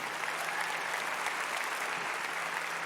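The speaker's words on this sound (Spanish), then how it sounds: "Dale fuerte ese aplauso al Señor." A church congregation applauds steadily and loudly, a dense wash of clapping filling the space without pause for the full stretch.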